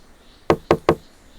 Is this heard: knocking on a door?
yes